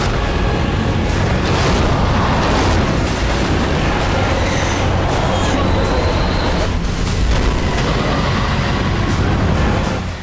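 Bomb blasts and heavy explosions from the Armenia–Azerbaijan war, a dense, loud, continuous roar of booming detonations with rumbling low end throughout, and voices faintly mixed in.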